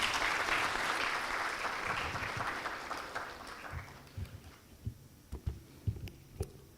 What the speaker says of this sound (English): Ladies and gentlemen, please give applause for Ms.